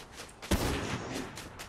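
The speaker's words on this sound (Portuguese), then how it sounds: "Acertei um tiro" A single sharp gunshot in the Fortnite video game cracks out amid low background game ambience, brief and moderately loud.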